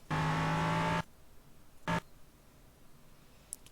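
An LMP3 prototype race car in iRacing at Sebring, heard in two short bursts of engine roar: a steady full-throttle note for about a second, then a brief second blast after a pause.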